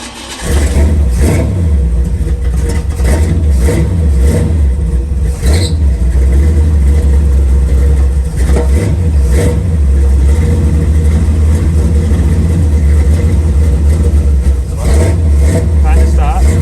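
A 1980 Chevy Camaro engine that hasn't been driven in a couple of years runs lumpy and uneven right after starting, a loud, steady low rumble filling the whole stretch with revs rising and falling, as people talk nearby.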